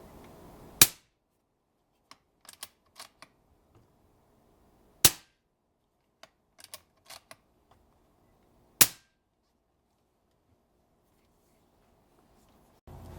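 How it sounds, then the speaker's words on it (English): Three sharp, loud reports from a .22 EDgun Matador air rifle firing at 930 fps, spaced a few seconds apart, with faint mechanical clicks and handling noises in between and no talking. "First we're going to do 3 shots with the 22."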